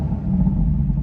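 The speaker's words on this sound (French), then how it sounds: "ce que je te propose, c'est d'écouter le son de cette voiture" A BMW M4 CS engine rumbles at idle, a steady, close, deep low growl with an even level throughout the short stretch.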